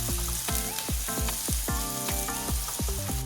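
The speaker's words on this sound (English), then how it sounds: "Then I add my spring onion to the hot oil and fry." Spring onion fries in hot oil in a pan, giving a steady, loud sizzle with dense crackling and popping throughout.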